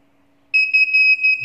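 An access control keypad in programming mode sounds a loud, sustained high-pitched electronic beep that starts abruptly and holds steady with slight pulsing, no speech over it.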